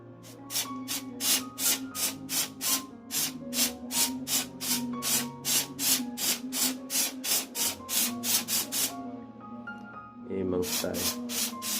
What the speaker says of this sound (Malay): Okay, kita steamkan pokok bunga ni.